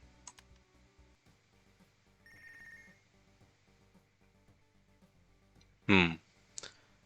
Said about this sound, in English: and the phone is ringing